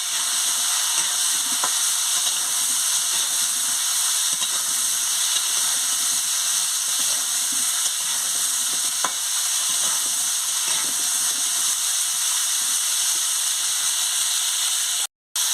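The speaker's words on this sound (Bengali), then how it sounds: "পরিমাণ মতন নুন আর হলুদটা দিয়ে আমি ফুলকপিটাকে ভালো করে ভেজে নিচ্ছি" Cauliflower frying in a pan with salt and turmeric, a steady bright sizzle and hiss throughout with a few faint scrapes of stirring, no voices.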